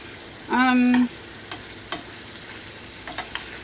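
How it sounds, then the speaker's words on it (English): Salmon frying in a pan, a steady soft sizzle with a few brief clicks and knocks, interrupted early by a short loud tonal beep. "And salmon, it doesn't really take that long to cook."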